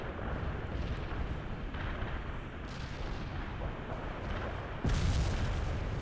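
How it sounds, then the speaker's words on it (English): A daisy cutter bomb goes off in the strategy game World in Conflict, heard as a dense, continuous rumbling roar of explosions that swells with a heavier, louder boom near the end. "I'm going to call in a daisy cutter, which should just destroy this bridge"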